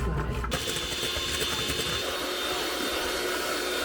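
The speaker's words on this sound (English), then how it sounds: "Just have egg whites in here. And now, whisk it up." Egg whites being whisked by hand in a bowl, a steady, dense, fast scraping rattle that runs continuously and close up, with no talk over it.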